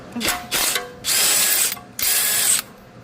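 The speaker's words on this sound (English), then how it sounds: "Now we're going to pull the pinch bolt out of the knuckle assembly." Ratchet wrench backing a pinch bolt out of the knuckle assembly on a BMW G01 X3 M40i, four loud close bursts of fast clicking separated by short pauses, the later bursts longer.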